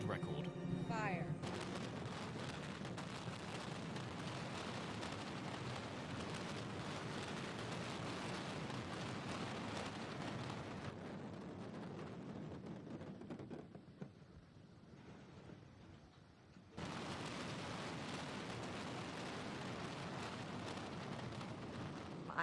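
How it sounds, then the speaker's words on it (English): Timed detonations in a building demolition implosion, with 17 structures collapsing in sequence like dominoes: a loud, sustained, dense roar of blasts and crumbling rubble, easing briefly before surging again. "The plan was to delay each detonation by a few seconds so the buildings would fall like dominoes."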